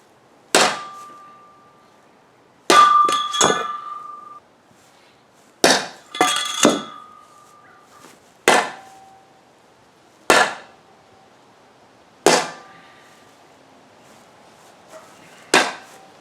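A Scottish Lochaber axe with a not-fully-sharpened blade strikes a target about eight times at uneven intervals, each hit a loud, sharp clang with a ringing metallic tail.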